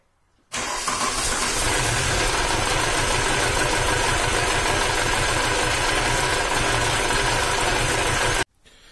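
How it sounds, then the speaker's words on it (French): A 1984 VW Golf 2 diesel engine runs roughly for about eight seconds on its first start during restoration, a steady loud rumble with an uneven, knocking texture, starting and stopping abruptly. "le moteur tourne"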